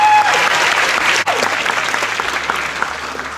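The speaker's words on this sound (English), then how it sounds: "So, one big round of applause for all the contestants." Loud, dense applause from a convention audience cheering cosplay contestants at a comic con in Dublin, a continuous wash of clapping with a brief dip partway through, then carrying on steadily.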